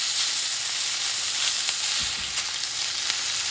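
Pork loin fat sizzles on a cast iron griddle outdoors, a close, bright continuous hiss with scattered small crackles and a couple of soft low knocks midway, no speech.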